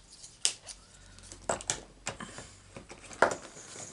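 Scissors snipping paper while fussy cutting out stamped chicken images for a handmade birthday card, a few sharp close snips spaced irregularly over a quiet background.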